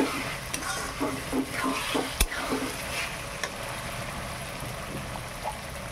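Spices fry in a pan with a soft, steady sizzle, overlaid by repeated scraping strokes of a spoon and one sharp metallic clack.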